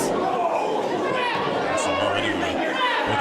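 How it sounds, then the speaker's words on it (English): A wrestling crowd at a pro wrestling TV show roars and chatters in a steady, dense wash of noise, with a few louder shouts, beneath an announcer's voice. "you can hear the crowd here is going wild for this"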